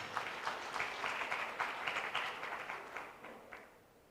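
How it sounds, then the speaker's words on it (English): An audience applauds the distinguished speakers at the launch event for Ethiopia's Digital Agriculture Roadmap, with steady, fairly distant clapping that fades slightly toward the end. "A round of applause for all our distinguished speakers."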